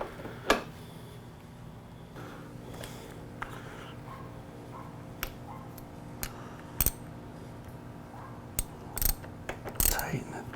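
A new clutch lever being tightened on a Yamaha R3 motorcycle, heard as a series of sharp, close metallic clicks and ratchet-like ticks scattered over a low steady background, with no speech.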